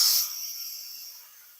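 Airbrush hiss of paint being sprayed onto a Boba Fett design on an HJC helmet, a soft airy spray that starts stronger and gradually fades over a second and a half, close and alone.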